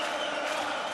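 A sellout darts crowd in Vienna roars and cheers continuously, a dense, loud wash of massed voices filling the whole moment.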